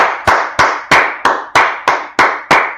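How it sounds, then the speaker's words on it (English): Audience clapping in unison at a Wednesday law class, eight sharp, evenly spaced claps in a steady rhythm, loud and close with no talking. "Let's first clap it up for the Most High God."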